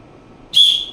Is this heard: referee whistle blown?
yes